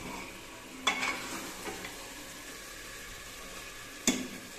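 A spoon stirring chicken through sizzling curry gravy with garam masala in a pan, a soft constant sizzle broken by a couple of sharp scraping clinks of the utensil against the pan.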